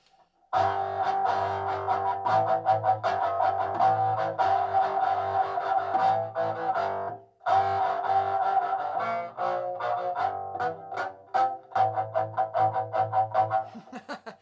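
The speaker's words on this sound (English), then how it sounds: "Oh, I can play with distortion." An electric cello plays a lively, bowed melody through heavy distortion, giving a buzzy, gritty tone with rhythmic short notes and one brief pause.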